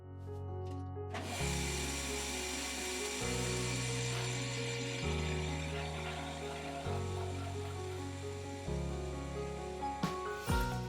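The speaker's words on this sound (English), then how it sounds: "I'm popping it through the bandsaw" A bandsaw hums with a steady mechanical drone that shifts pitch in repeated steps as it cuts through a pen blank, ending with a brief clatter.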